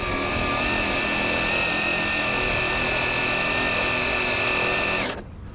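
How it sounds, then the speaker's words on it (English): Traxxas Drag Slash Chevrolet C10 remote-control car doing a burnout, an intense high-pitched electric motor whine held steady at full revs for about five seconds before cutting off sharply, close and loud. "let me do another quick burnout"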